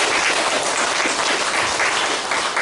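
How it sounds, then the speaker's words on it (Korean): Congregation at a Korean church service claps in thanks, a dense, even wash of applause from many hands that stays loud and steady throughout, with no voices over it. "우리 참부모님을 위해서 감사의 박수를 올려주시면 감사하겠습니다"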